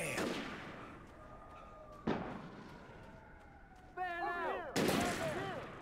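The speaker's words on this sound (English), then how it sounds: "Oh shit, they're shooting at me." Enemy gunfire in the Alan Wake video game, a few sharp distant cracks spaced seconds apart over ambient game noise, with a tonal whine or siren-like sweep between shots.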